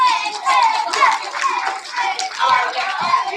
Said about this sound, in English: Let's give room 111 another round of applause.